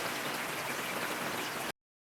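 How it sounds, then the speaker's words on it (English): Heavy rain falls in San Francisco, a dense, even hiss of drops pattering on surfaces, close and steady for under two seconds before cutting off abruptly. "From a gentle drizzle to a mighty downpour, San Francisco faces a storm like never before."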